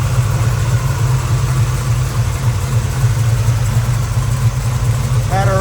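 A 1972 Chevrolet Chevelle with a big block Chevy V8 and headers idles with a loud, close, steady low rumble, with a brief higher chirp right at the end.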